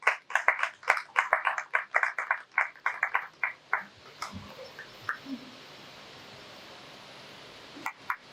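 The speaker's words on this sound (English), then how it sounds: "Put your hands together for them." A seminar audience for first-time home buyers claps briefly for the presenters, a scattered burst of individual claps that thins out after about four seconds into quiet room tone, with a couple of faint late claps.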